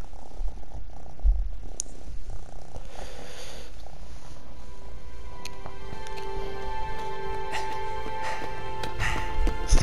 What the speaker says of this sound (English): Sorry if you hear my cat purring very loud.